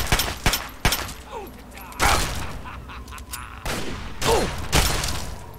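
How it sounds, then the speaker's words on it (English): Shotgun blasts in the video game Fallout 3, several sharp booming shots at irregular intervals over faint background game noise. "That man's got a shotgun. That's not good."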